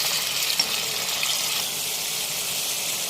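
Curry leaves fry in hot oil with a steady, close hiss and sizzle that continues evenly throughout.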